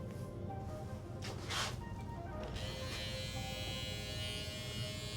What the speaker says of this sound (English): That's kind of what's nice about using your electric shaver too here, where like you could get most of that bulk out of the way